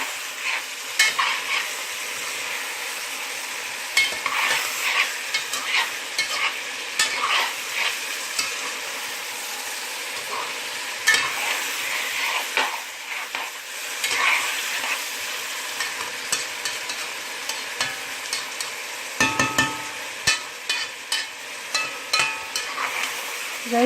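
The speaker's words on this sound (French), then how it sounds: "Il ne faut pas que les oignons se brûlent. Hein. C'est pourquoi je ne fais que remuer." Onions fry in a pan while being stirred continuously, a steady bright sizzle broken by frequent scraping strokes of the spoon, close and fairly loud with no talking.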